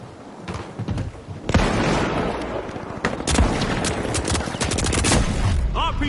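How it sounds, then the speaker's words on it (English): Rocket launcher fire in the video game The Finals during a game show event, a burst of booming shots and explosions over rapid gunfire, loud and dense, with an announcer talking over it. "RPG fire!"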